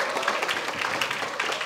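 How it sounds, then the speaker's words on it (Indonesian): An audience at an alumni talk with Indonesia's tourism and creative economy minister claps together in a dense, steady burst of applause that stays fairly even for a moment. "Terakhir kita bisa kasih tepuk tangan lagi yang merah-merah"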